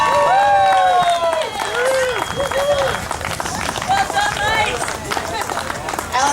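A cheer squad at the finish of the 2015 Perth Marathon, close and loud, yells, whoops and claps as a runner crosses the line, with talking mixed in.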